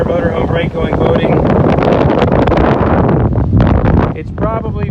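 Heavy wind buffets the microphone aboard a small boat out on open water, a loud, steady roar that stays close throughout with a voice partly buried beneath it.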